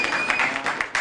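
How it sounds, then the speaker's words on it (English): Conference audience claps in a round of applause, a short burst of fairly quiet, scattered clapping with a few sharper swells in intensity. "Let's have a round of applause that gets gradually louder and louder."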